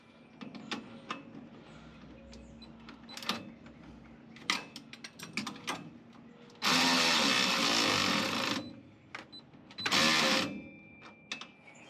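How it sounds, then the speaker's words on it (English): A brand new Craftsman ratcheting wrench tightens an alternator bolt on a Chevy C10 truck, making close, irregular clicks broken by two loud, harsh buzzing bursts of a tool running. "a brand new Craftsman I just got. I'm gonna tighten this up."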